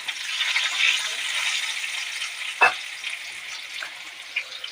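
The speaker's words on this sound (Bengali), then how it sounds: "সেটা হলো আলু ভাজা বয়েছি।" Potatoes fry in a pan in hot oil for meat curry, giving a steady bright sizzle with a single sharp clatter midway and light rattling of the pan.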